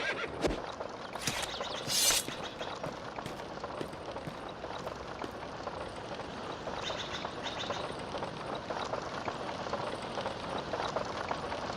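Horse neighing in The Bard's Tale video game, a whinny near the start followed by clopping hooves and steady ambient game noise with no speech.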